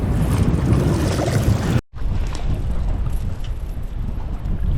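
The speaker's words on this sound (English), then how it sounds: "because it's way too windy to go into the wind" Strong wind roars across a microphone on a fishing boat out catfishing, a steady loud buffeting broken by a brief cutoff before the gusting resumes.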